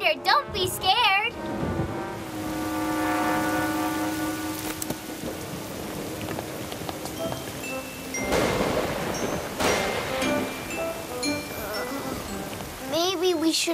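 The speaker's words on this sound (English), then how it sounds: "Matea, that was just thunder. Don't be scared" A cartoon thunderstorm: constant rainfall patter with a rolling rumble of thunder midway, as characters talk over the storm.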